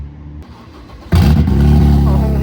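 A BMW 335is with an N54 engine fires up through an open exhaust dump, a quiet stretch giving way to a sudden loud, deep burst that settles into a rough, rumbling idle close by, with people talking around it.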